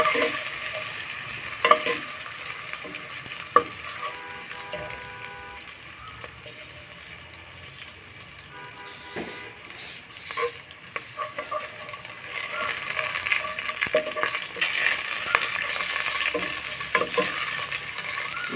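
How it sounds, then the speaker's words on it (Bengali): Spices with green chillies frying and being stirred in a pan for a fish-head and ash gourd ghonto, a steady sizzle with scraping stir strokes and occasional utensil taps, close and alone. "দিয়ে মশলাটা আমি সুন্দর করে ভেজে নেব"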